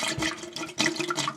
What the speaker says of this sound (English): we're going to first fill up the bowl